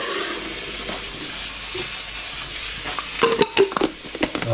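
Butter being stirred into a chicken and 'nduja risotto in a pan, a steady soft sizzle and wet churning with a few louder scraping stirs near the end, close up with no talking.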